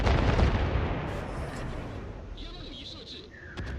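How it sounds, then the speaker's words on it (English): Naval guns of the ship Neptune firing on the New Orleans in a warship battle game, heavy booming salvos rolling under a dense, loud low rumble, with voices talking over them. "Neptune's firing on the New Orleans."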